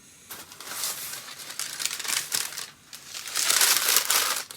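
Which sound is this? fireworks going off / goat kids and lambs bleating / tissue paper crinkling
tissue paper crinkling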